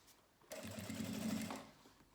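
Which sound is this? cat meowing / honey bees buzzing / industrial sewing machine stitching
industrial sewing machine stitching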